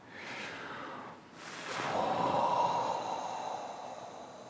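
A group of people in a bookstore gathering in Mountain View, California, exhale together in long, audible out-breaths, a soft breathy whoosh that swells and fades and then holds steady at a moderate distance.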